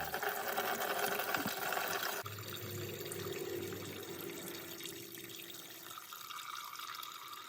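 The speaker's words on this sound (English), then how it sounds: "I'm going to drain the coolant." Coolant drains from the engine of a 2000 Ford Ranger 4.0 during engine removal, a steady liquid pouring and trickling that starts heavy and settles into a softer continuous flow, fairly close.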